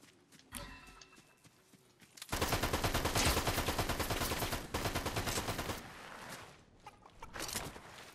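A loud, sustained burst of automatic gunfire hammers away for a few seconds in a Fortnite match, framed by quieter game sounds before and after.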